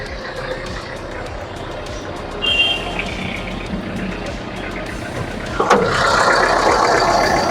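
The original diesel engine of a 2003 Toyota Qualis runs with a rhythmic mechanical clatter and a low throb, close by and steady, with a sudden rise in loudness about two-thirds of the way through.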